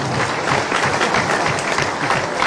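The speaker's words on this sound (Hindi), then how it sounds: "प्रदेश के लिए भी ताली बजाओ।" Crowd applauding at a Vijay Sankalp election rally addressed by Shivraj, a dense, steady wash of many hands clapping at close range with no pauses.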